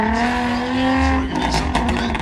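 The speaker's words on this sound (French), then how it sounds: "Du drift, pardon, en Jaguar." A Jaguar car drifting during a stunt show at Santa Pod in England: a loud, sustained engine roar with tire squeal, its pitch shifting partway through, close and with no talk.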